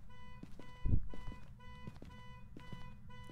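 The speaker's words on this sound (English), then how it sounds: "That's the car alarm." A car alarm in the video game Phasmophobia sounds at a distance, a faint, repeating electronic tone pattern cycling several times, with one soft low thump early on.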